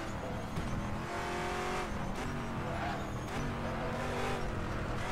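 Race car engine roars steadily with repeated tire squeals and skidding in the RaceRoom driving simulator played with an Oculus Rift DK2, loud and continuous with rising and falling revs.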